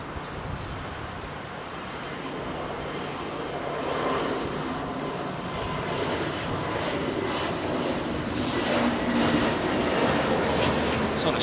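An airliner's engines roar steadily at London Heathrow on runway 27R, a broad, sustained rumble that builds slightly louder toward the end.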